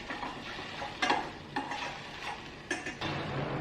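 Ingredients roasting in a pan, with a low steady sizzle broken by a few sharp spatula scrapes and clinks against the metal, close and alone.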